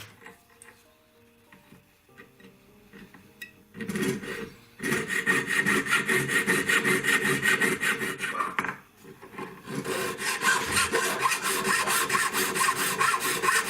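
Hand sawing of metal tubing to make a short tube, cutting beside a scribed line; rhythmic back-and-forth rasping strokes start after a quiet lead-in and run loud and close, pausing briefly midway before resuming.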